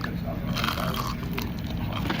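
Someone bites into extra crispy fried chicken up close, a dense burst of crunchy biting and chewing spread over a couple of seconds against a noisy background.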